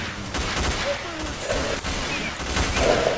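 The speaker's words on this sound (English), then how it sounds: "Now it feels like they're all shooting me." Gunfire in the video game S.T.A.L.K.E.R. Call of Pripyat: dense, rapid bursts of shots in overlapping volleys, close and loud, with faint voices mixed in.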